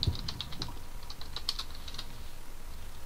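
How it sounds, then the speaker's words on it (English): Rapid computer keyboard typing during a Minecraft voice chat, a steady run of light, close clicks and clacks with no talking. "I can still hear your keyboard going click, click, click"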